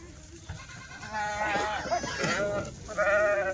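Kathiawadi sheep and goats bleating, several overlapping wavering cries close by, loudest in the middle and again near the end over a low murmur of background noise.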